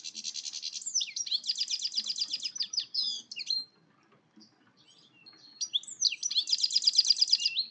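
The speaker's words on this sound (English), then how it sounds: "Goldfinch song is a lovely, fast and energetic tinkling affair." Goldfinch singing a fast, energetic tinkling song in two bright bursts separated by a brief pause, clear and close with no other sounds.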